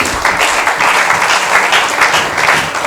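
A church congregation breaks into loud, sustained applause, dense clapping filling the space evenly with no pauses or speech.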